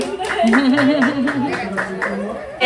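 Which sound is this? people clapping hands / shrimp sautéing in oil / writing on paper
people clapping hands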